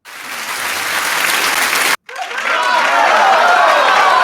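Recorded soundbite of a woman clapping, heard as dense rapid applause-like clapping, loud and continuous, cut off abruptly by a short silent gap and then resuming even louder until the end.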